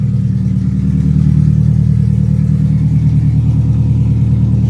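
A 1997 Toyota Camry engine idles steadily after sitting ten years on old gas, a loud, close, continuous low rumble with a faint clattering texture and slight swells in revs.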